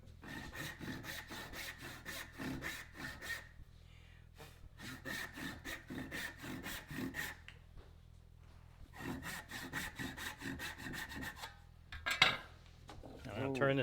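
A hand saw cuts along a marked line in wood, a steady back-and-forth rasping in rhythmic strokes, pausing briefly twice, close and clear with faint clinks near the end.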